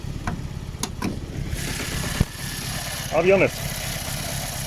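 A four-cylinder car from a flood relief giveaway idles roughly, not firing on all cylinders, with a steady low rumble running beneath a man's close speech.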